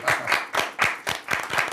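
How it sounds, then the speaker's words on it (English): Dense clapping from a crowd, a steady wash of many hands with rhythmic swells, fairly close and loud. "Big round of applause!"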